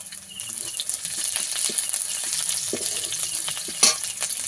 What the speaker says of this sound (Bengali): আদাটা একটু লেড়ে চেড়ে ভেজে নেব